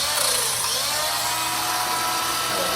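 A biscuit joiner cuts a slot into wood with a loud, steady high-pitched whine that fills the whole stretch, close and uninterrupted, with no talking.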